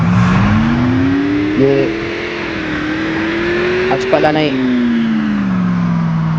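A sofa-shaped car in the Roblox game Bloxburg runs with a continuous synthetic engine hum that rises and falls smoothly in pitch as it revs, heard throughout under a person talking.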